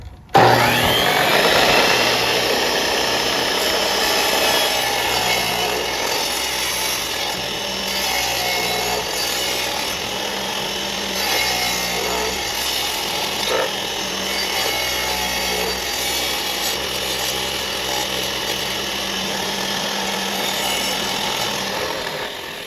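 A saw cutting kerf cuts for a herringbone tile backsplash, a steady, close, harsh grinding rasp that runs unbroken for over twenty seconds with no talk.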